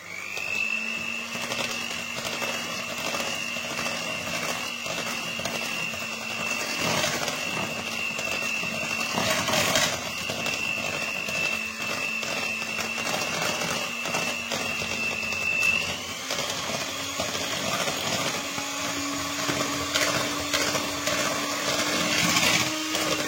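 Electric mixer whirring steadily through a galette des rois filling, a loud continuous motor whine that shifts pitch slightly as it works, with clinks of the beaters against the bowl.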